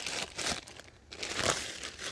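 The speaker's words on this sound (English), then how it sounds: "we're just going to remove this little guy from the plastic bag here" Plastic bag crinkling and rustling continuously as a potted dwarf peach tree is pulled out of it, close and fairly loud with no talk.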